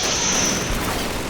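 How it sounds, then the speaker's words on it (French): Smoke grenade thrown in Call of Duty 2 on PC, a short dense whooshing burst with a thin high hiss that fades after half a second, loud and close with no talk. "Lance une grenade fumigène pour nous dissimuler."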